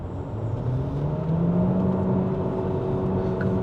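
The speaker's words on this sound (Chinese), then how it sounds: "当我听到这个引擎声浪的时候" The 1.5 litre engine of a Proton eMas 7 PHEV Premium accelerates on a test drive, its hum rising steadily in pitch inside the cabin with no talk.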